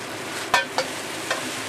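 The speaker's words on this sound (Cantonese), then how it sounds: "而家煎一煎啲米粉先" Hsinchu rice noodles pan-fry in a hot, nearly oil-free wok for Hong Kong-style fried noodles, giving a continuous close sizzle broken by a few quick stirring scrapes.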